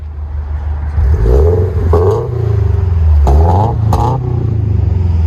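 Close, loud revving from a 2020 Subaru BRZ 2.0L fitted with a PERRIN cat-back dual exhaust: several sharp throttle blips rise and fall over a rumbling idle, with a couple of crisp pops between them.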